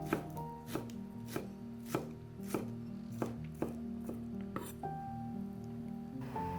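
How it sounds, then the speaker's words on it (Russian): Steady knife chopping of green onion on a board, about a dozen crisp cuts at a regular rhythm with a faint background hum. "А тем временем нарезаем немного зеленого лука."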